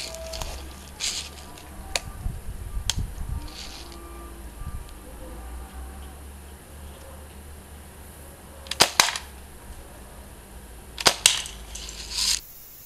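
A Daisy 74 BB rifle fires at cans outdoors, with sharp, quiet snapping shots spread across the stretch, including a quick pair and a later cluster, amid faint background noise and some talk.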